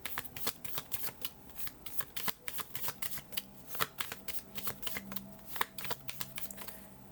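Tarot cards being shuffled by hand, a steady run of crisp riffling snaps and soft slides up close, with no talking.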